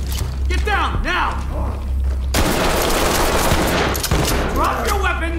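Bursts of machine gun fire crackle loud and dense through a co-op police tactical shooter game, a sustained fusillade in the middle with scattered shots around it, while players shout over the gunfire.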